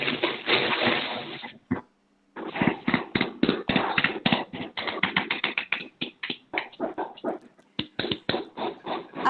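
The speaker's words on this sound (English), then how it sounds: "Can we have a huge round of applause, ladies and gentlemen?" Applause at an awards ceremony, a dense wash of many hands clapping that breaks off briefly, then thins into a looser run of separate, rhythmic claps toward the end.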